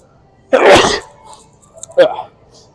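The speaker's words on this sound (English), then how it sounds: "I feel a sneeze brewing" One loud, close sneeze bursts out, followed a moment later by a shorter sneeze or cough.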